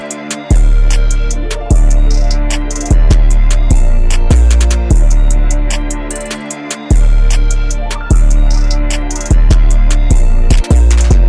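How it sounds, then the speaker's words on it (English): A trap beat with deep, booming 808 bass notes sliding under crisp rapid hi-hats and snappy claps, loud and steady, with brief drops where the bass cuts out. "That'll do it for the 808 pattern,"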